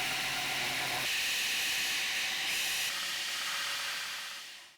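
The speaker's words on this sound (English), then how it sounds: "I'm going to use a file guide and get it really, really close on the grinder" A belt grinder works a knife's integral bolster against a file guide, giving a loud, steady hissing grind that shifts tone partway through and then winds down at the end.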